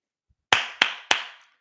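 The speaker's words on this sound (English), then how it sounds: "Jason Garrett clap" Three sharp hand claps in quick succession, close and crisp, each with a brief ringing decay, after a faint soft tap in otherwise quiet surroundings.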